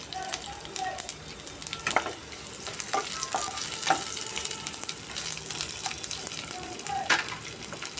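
Curry leaves added to hot oil alongside onion and green chilli for a crispy okra and cashew fry, producing a steady sizzle broken by scraping stirs and sharp spits; no talking.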